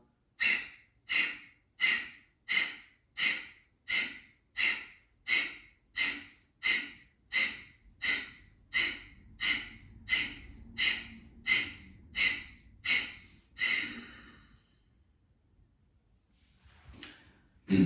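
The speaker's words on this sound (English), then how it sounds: "This breathing exercise, Kabalabhati, we use for weight loss also." Kapalabhati pranayama breathing: a steady, even series of about eighteen sharp, forceful nasal exhalations, each a loud hissing puff at roughly one per second, followed by a quiet pause and a final breath.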